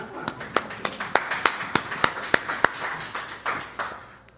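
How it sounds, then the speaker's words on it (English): A small group gives a round of applause, a sparse handful of distinct claps with uneven rhythm, fairly close, thinning toward the end. "That deserves a round of applause"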